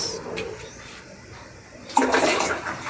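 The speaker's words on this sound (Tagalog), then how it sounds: "dadagdagan na natin siya ng tubig para mabuo ang 50 liters" Water gushes steadily into a bio-pesticide mixture being topped up to 50 liters, a loud rushing pour that starts partway through after quieter ambient noise with faint bird calls.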